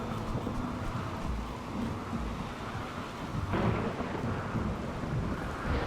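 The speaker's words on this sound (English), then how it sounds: "we're having a rainy thunderstorm." A rainy thunderstorm rolls through the video game Rimworld, with steady hissing rain and low rumbling thunder throughout, a louder swell of rumble building near the end.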